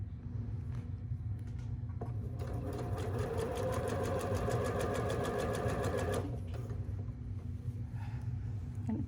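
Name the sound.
sewing machine straight stitching a wrap neckline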